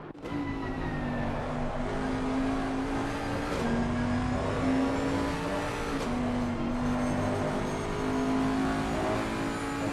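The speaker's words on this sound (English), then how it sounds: "We'll see here how well can the Bentley hold on against the Lexus. 2 V8s, of course, head-to-head." Twin-turbo Bentley V8 and Lexus V8 race cars circle Spa in a steady, loud engine drone, a sustained high tone that shifts pitch with gearchanges, close and continuous with no talk.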